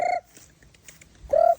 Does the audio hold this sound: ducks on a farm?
yes